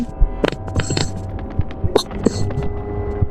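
A low, throbbing heartbeat pulse from the video game Mimic repeats under sharp game noises and clicks, moderately loud and steady.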